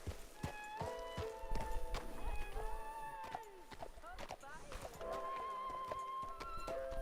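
Horse hooves from Red Dead Redemption 2 Online: a string of sharp clip-clop hoof strikes, fairly close, with a whinny and tonal game music layered over the top.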